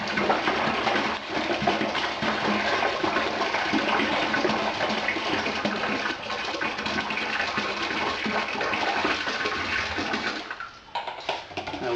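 Cold water gushes steadily into a blow-moulded plastic fermenter for brewing an imperial stout, a loud, close, continuous pouring rush that falters and thins near the end.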